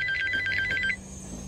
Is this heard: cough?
no